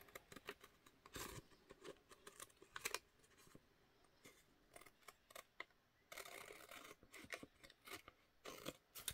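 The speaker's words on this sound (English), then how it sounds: "Let's trim that off real quick and go for the other edge." Scissors trim the edge off a paper envelope, giving a series of quiet, close snips and paper rustles in short bursts with brief pauses between.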